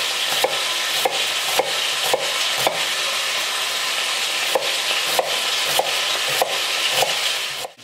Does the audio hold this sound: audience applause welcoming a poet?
no